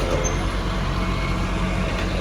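A large lorry's engine rumbles steadily from inside the cab while riding, a continuous broadband drone with strong low-end road noise and no speech.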